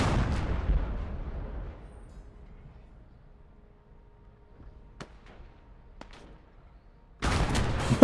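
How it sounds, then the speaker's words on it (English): A Comet tank's cannon fires in the Call to Arms World War II game and ignites an enemy tank's ammunition. A heavy blast rumbles away over a second or two, then faint clicks sound in near quiet, and a second loud burst hits at the end. "Wow, that was a really lucky shot. I ignited the ammo of that tank."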